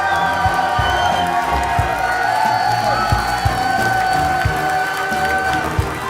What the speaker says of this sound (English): can I get a round of applause for your champion?